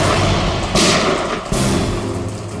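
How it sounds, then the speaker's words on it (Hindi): Two heavy gunshots sound as dull, booming thuds, less than a second apart, over a constant roar of heavy rain in a crime drama scene. "ये कहीं गोली चली है।"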